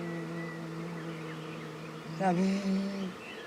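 Bees drone at a beehive in a low, steady hum, and a voice briefly cuts in over the buzzing near the end.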